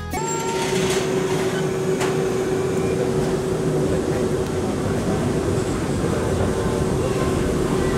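A Kurobe Gorge Railway trolley train pulls out of Unazuki on its mountain line, with a steady loud rumble and a sustained tonal whine and hum running throughout at close range.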